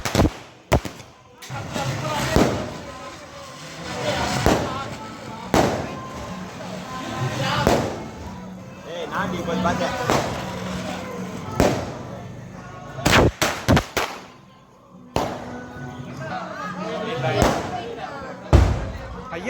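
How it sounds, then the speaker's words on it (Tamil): Large firecrackers going off at a temple Diwali festival, a series of sharp, loud blasts at irregular intervals, with people talking in between. "அது பெருசா வெடி"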